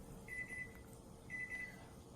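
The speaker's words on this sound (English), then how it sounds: "All right, so the timer is up." Kitchen timer going off: two faint bursts of rapid high beeps about a second apart, heard over a quiet room hum with no talk.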